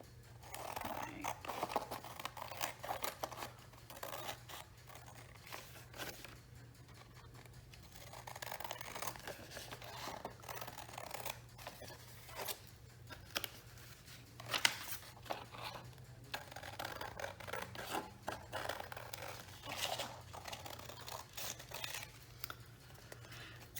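Scissors cut through a paper security envelope in quiet, uneven snips and rustles over a low steady hum, with faint scraping and crinkling between cuts, close but soft.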